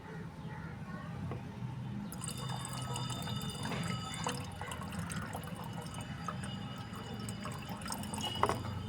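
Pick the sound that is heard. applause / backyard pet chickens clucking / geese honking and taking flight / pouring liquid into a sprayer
pouring liquid into a sprayer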